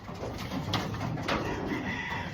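Pigeons coo softly nearby, a few low, rounded calls over a faint background hiss.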